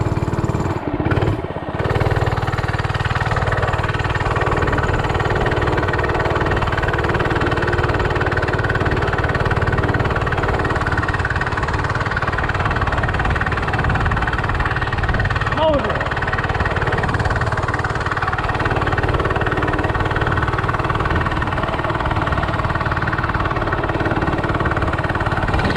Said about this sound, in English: Basically just idling, dude.